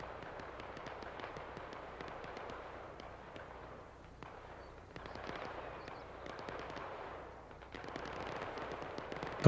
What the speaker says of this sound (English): A lot of shots coming from up on that hill.